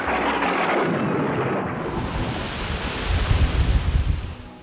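Steady heavy rain pours over a coastal saltwater swamp forest while a deep rolling rumble of thunder swells toward the end, with no voices present.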